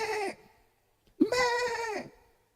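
A goat bleats twice up close: a short call, a brief silence, then a longer, wavering, nasal bleat, with no talking.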